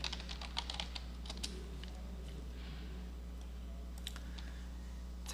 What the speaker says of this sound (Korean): 여기다가 전월 판매 수량이라고 입력을 한 다음 엔터를 치시면 됩니다